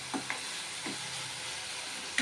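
Tomatoes frying in a pan for rajma masala curry give a steady soft sizzle, with a few faint scraping stirs.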